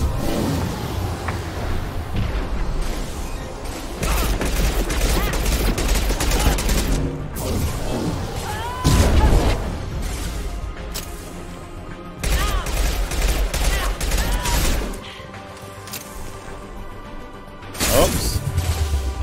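Missile launcher fire and explosions in the sci-fi shooter Mass Effect 2, heavy booms and bursts under a dense battle soundtrack, with loud impacts near the middle and end.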